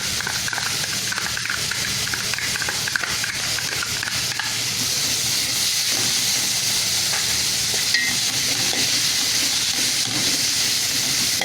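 Onions sautéing in a pan for a traditional Malabar chatti pathiri dish give a steady, close hiss and sizzle that runs unbroken throughout, with faint stirring clatter and no talking.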